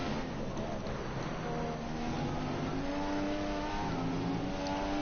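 A Formula 1 car engine in the F1 2015 racing game at Bahrain, a loud continuous high-pitched whine that rises and falls with throttle and gear changes, heard close and steady.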